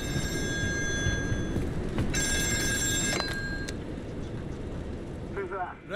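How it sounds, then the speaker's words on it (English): An old telephone bell rings in a video game set on a North Sea oil rig, in two bursts of rapid electric ringing over a rumbling, noisy background, followed by a brief voice. "Phone's ringing."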